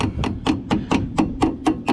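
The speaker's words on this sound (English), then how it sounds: "grab a small hammer and just kind of" A small hammer taps a cap on the front end of a Chevy S10 pickup, about nine evenly spaced metallic knocks, close and fairly loud over a low background hum.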